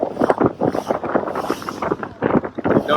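Strong wind buffets the microphone on a boat out in rough seas, a loud, gusty roar that swells and dips in repeated surges without any voices.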